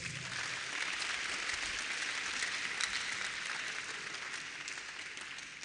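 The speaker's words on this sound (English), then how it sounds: "Clap for yourselves." Engineering alumni at a 30th anniversary gathering clap for themselves, a steady, dense wash of applause from a sizeable crowd that holds evenly for several seconds and tapers only slightly.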